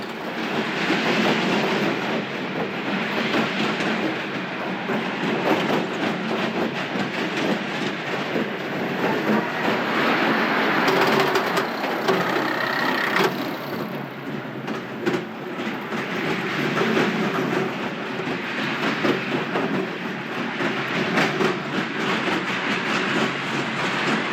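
A small amusement park train runs steadily, with a continuous rolling rumble and clickety-clack of wheels on track lasting throughout, no talking.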